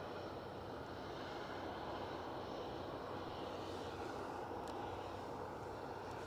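Aer Lingus airliner at Edinburgh airport, a steady broadband engine roar heard from a distance, constant in level throughout with no voices.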